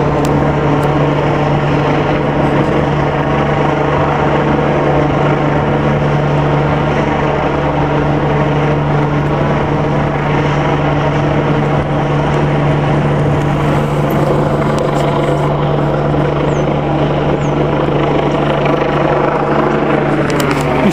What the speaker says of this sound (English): I got a helicopter on my shoulder.